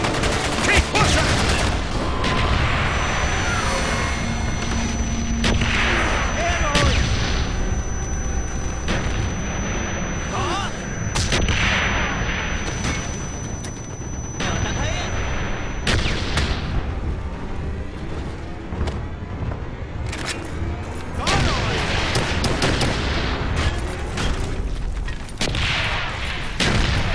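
Sustained first-person shooter battle: dense, loud gunfire bursts, machine-gun rattles and booming artillery blasts and explosions continue throughout, with shouted voices in the mix.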